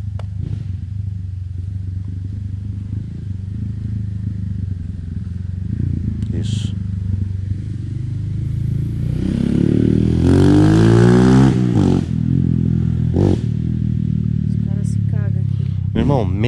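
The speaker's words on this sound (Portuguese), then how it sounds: "o que que tem um motoqueiro passando aqui?" A motorcycle passes at night on a road near a cemetery, its engine rising to a loud, close roar at the peak and then fading away, under steady background noise while people talk.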